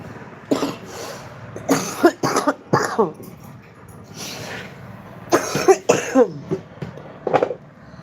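A person coughing repeatedly, several harsh, close coughs in bursts with short pauses between them, loud and raspy with some throat clearing.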